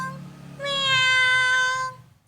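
A storyteller's voice imitates a cat's meow, one drawn-out, clear tonal call lasting over a second, close and alone against a quiet background.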